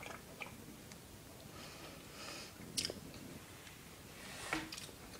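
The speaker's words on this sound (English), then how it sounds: "Sorry if you can hear me chewing" A warm chocolate fudge brownie flavoured with coffee is chewed close up, soft, moist mouth sounds and small clicks repeating irregularly over low room hiss, faint and without talking.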